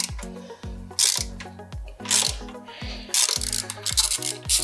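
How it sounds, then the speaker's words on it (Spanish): Large ratchet wrench loosening tight exhaust bolts on a 2022 Yamaha MT-07 motorcycle, a rapid repeated clicking in steady bursts, close and loud, with no talk. "Vais a tener que emplear a fondo y usar una carraca de las grandes"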